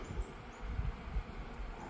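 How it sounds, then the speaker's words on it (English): Bees buzzing in winter around a pollen feeder set out for the hive, a steady low droning hum with a few louder passes close by. "Good little bit of bees around it, and it'll increase as time goes on."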